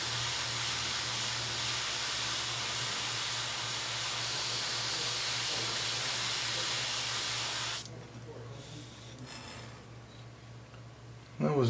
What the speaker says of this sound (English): again, we're trying to spray in the forward edge.